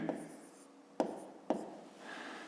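Pen writing numbers on paper during a fifth-grade maths exercise, a few quick scratchy strokes with two sharp taps between them, close and fairly quiet, no talking.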